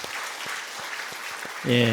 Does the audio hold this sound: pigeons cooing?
no